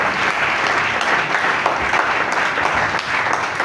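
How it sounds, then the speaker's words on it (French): Church congregation applauding, dense continuous clapping from many hands filling the room at a steady, fairly loud level with no talking. "Acclamons la parole de Dieu."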